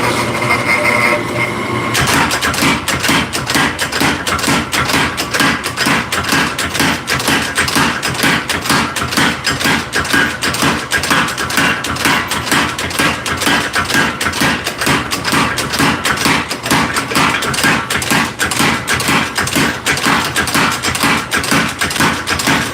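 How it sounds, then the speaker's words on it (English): A power hammer draws out steel during forging, pounding in a rapid, relentless rhythm of hard metallic blows that starts abruptly after a brief pause, loud and close, with no talking. "We're doing that initial drawing out of the steel with the power hammer"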